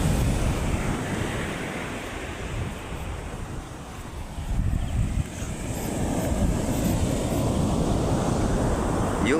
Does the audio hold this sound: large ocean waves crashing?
yes